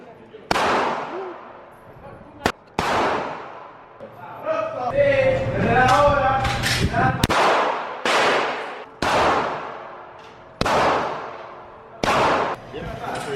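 Gunshots at a shooting range, about eight loud close reports fired one at a time, each ringing out in a roughly steady rhythm, with people talking between some of the shots.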